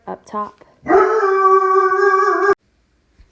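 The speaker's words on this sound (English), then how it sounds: "that was my dog" A dog gives a sustained, loud howling whine of about a second and a half, preceded by a few short yips mixed with brief speech, then silence.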